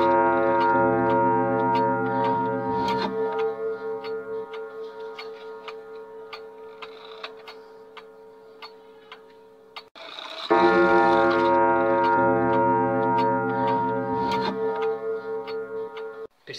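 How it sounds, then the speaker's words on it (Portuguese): An antique clock about a hundred years old ticks steadily while deep, resonant chime strikes ring out and slowly fade, with a second loud strike partway through; no voices. "Eu levei um relógio antigo, de uns 100 anos mesmo, e as crianças tiveram a experiência de ouvir o relógio."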